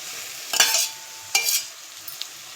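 Tomatoes tossed into a frying pan of spicy macaroni masala give two short bursts of sizzling with stirring scrapes, then quieter light clinks, close up.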